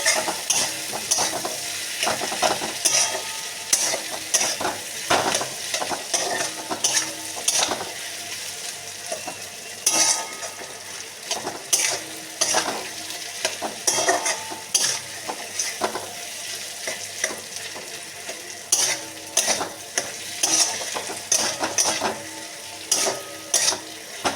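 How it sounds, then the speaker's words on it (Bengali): Peas with onion and tomato fry and are stirred in a pan for ghugni, with a steady close sizzle broken by repeated scraping strokes of a spoon against the pan. "তারপরে এটাকে সব কিছু পেঁয়াজ, টমেটো সব কিছুর সঙ্গে সুন্দর করে ভাজা ভাজা করে নিতে হবে।"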